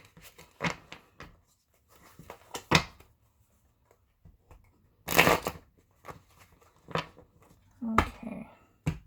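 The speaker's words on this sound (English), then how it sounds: "I'm just going to give these a shuffle before I start diving into the reading fully" Tarot cards are shuffled in quick bursts of riffling and flicking, close and crisp, separated by short pauses.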